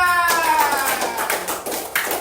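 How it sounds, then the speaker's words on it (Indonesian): Brisk clapping from a classroom of students applauding a student group, a dense burst of hand claps close by after a brief moment of tonal sound at the start. "Beri tepuk tangan kepada kelompok 2."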